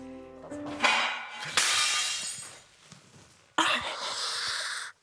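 Glass shatters in several loud crashes, each followed by tinkling and clinking pieces as they fall and scatter, with quieter pauses between the bursts.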